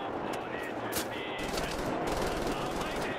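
Heavy machine gun fire in the Wolfenstein video game, rapid continuous bursts with sharp reports and clattering, under excited talk.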